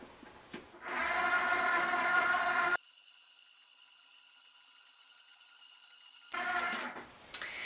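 A stand mixer whipping royal icing in a bowl loosely covered with a towel, running steadily as a loud whirring hum for about two seconds, then dropping to a quieter tonal drone before picking up again near the end.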